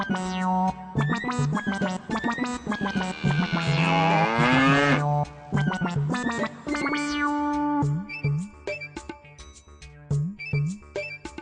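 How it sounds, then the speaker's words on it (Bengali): A cartoon bull bellows in loud, exaggerated moos, stretched and bending in pitch with a long warbling call midway, then a run of short punchy bellows, close and alone without talk. "আমি একটা ষাঁড়ের আওয়াজ শুনতে পাচ্ছি।"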